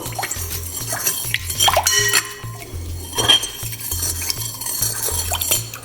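Fruit, including blackberries, is stirred around in a bowl, giving a close series of light clinks, wet squelches and utensil taps over a steady low rhythmic hum.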